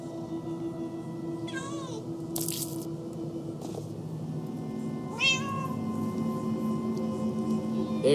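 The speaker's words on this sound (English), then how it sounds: "Oh, many cats. So many cats." Several cats meow in the Minecraft Story Mode video game, with two distinct rising meow calls standing out over a steady game soundtrack hum, one early and one later, with a brief squishy burst between them.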